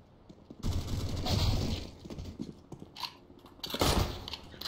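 Gunfire in Counter-Strike: Global Offensive during a wingman match, a burst of rapid shots followed by scattered single cracks and another loud volley, close and punchy with no talk over it.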